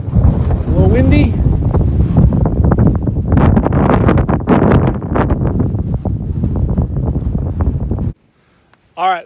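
Wind on a Picacho Peak mountain ridge hits the microphone in a loud, gusty rumble throughout, with a voice briefly heard near the start and again at the very end.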